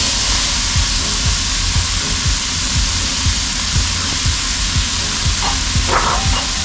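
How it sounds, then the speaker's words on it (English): Onions sizzling steadily in hot oil in a pan for chicken curry, with whole spices such as bay leaf, cloves and black cardamom, a dense close hiss broken by light rhythmic stirring strokes, no voices. "You have to fry this onion till it gets a little light brown."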